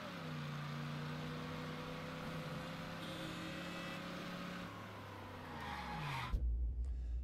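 Car engine droning steadily in the video game Mafia III, a sustained low hum with rising and falling pitch, ending in a sharp thump and rumble near the end; no talk.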